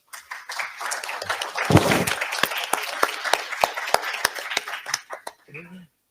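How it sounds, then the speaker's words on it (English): Audience applause during a regulatory conference session: scattered, uneven claps from a modest crowd, individual sharp hand claps standing out, with a burst of louder clapping near the middle and brief voice sounds toward the end. "One more time, please. One more applause."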